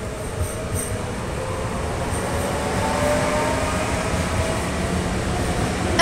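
An Elf electric passenger train runs through Zawiercie station without stopping, giving a loud, continuous rumble of wheels and rail noise with some squeal, steady and close throughout.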